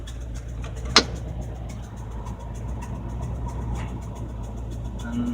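A 1978 Ford F-150 engine idles with a steady low rumble, one sharp click near the start, and no clear shift between high and low speed.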